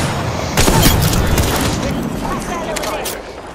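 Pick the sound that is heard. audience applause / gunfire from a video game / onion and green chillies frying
gunfire from a video game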